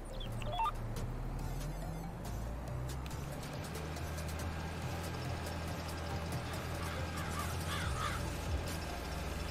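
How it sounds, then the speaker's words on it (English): Crows caw in Farming Simulator 22 in a few faint, scattered calls over a steady rumble of farm machinery and vehicle engine, with no talking. "Yes, birds, run away before you get poop thrown at you."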